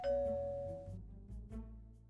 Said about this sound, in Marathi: बेल वाजते.